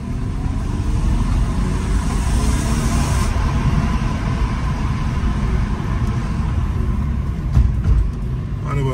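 A BMW E36 320i coupe drives along with a steady low engine drone and road rumble heard from inside the car, holding constant throughout with a brief bump late on.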